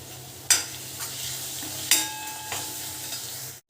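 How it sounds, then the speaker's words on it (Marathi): Masala fries in oil for egg curry with a soft, continuous sizzle, broken by two sharp metallic spoon knocks against the pan and a few quieter stirring scrapes, close by, with no talking. "मसाला तेलामध्ये अगदी व्यवस्थित छान भाजला गेला खरपूस"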